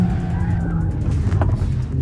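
A Mercedes-AMG A 45 S 4MATIC+ held in a drift, its engine droning loud and steady with a brief tire squeal rising in the middle, close up.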